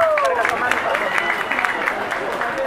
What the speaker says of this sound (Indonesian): Selamat kepada Oci, dan mana tepuk tangannya untuk Oci